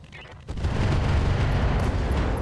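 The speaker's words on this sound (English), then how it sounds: "LRM ammo explosion, the longbow's out of here." LRM ammo explosion destroying a Longbow mech in the RogueTech BattleTech mod, a sudden loud blast that swells into a sustained, rumbling roar of detonations lasting a couple of seconds.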